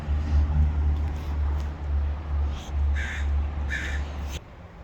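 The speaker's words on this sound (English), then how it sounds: "a crow" A crow caws a few times in short bursts over a steady low rumble of passing traffic, moderately close and outdoors, with no one talking.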